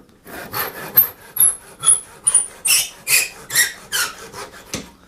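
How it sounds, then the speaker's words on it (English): Hand saw cutting the waste wood away from a tenon on a mortise and tenon joint; about ten rhythmic, rasping back-and-forth strokes, close and clear, with squeaky high tones on several strokes. "we can just clean that up by sawing that waste away"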